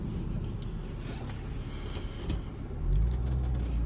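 Subaru STI X, a JDM-version car, driving on a road in Japan, heard as a low steady interior rumble of engine and road noise that swells louder toward the end.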